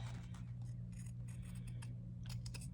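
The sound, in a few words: cutting doll dress fabric with scissors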